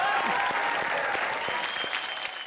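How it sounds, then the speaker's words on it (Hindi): A studio audience at a comedy roast show gives steady, full applause for Sanjay sir, many hands clapping at a moderate, even level that tapers slightly near the end. "संजय सर के लिए जोरदार तालियां हो जाए।"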